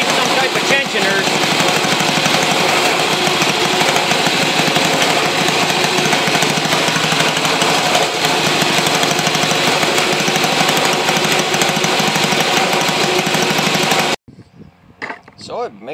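Two lawnmower engines chained together into a two-cylinder setup run in a loud, steady, rough drone with rattling and clatter, cutting off abruptly near the end before a few quiet sounds.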